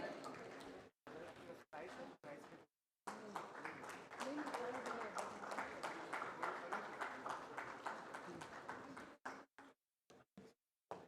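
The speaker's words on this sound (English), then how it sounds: "Let's give them a round of applause, please." Applause from an audience at a startup summit panel discussion, a steady wash of clapping lasting several seconds, broken at the start and end by short gaps and a few scattered claps.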